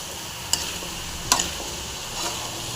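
Gooseberry pickle sizzles in a pan while being stirred, a constant frying hiss broken by two or three sharp spoon clicks against the pan.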